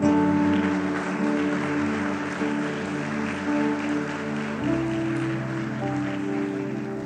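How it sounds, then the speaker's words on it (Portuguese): Sustained applause from a church congregation, a continuous patter of clapping over steady sustained keyboard or organ tones that shift chord partway through. "Aplauda, aplauda, aplauda."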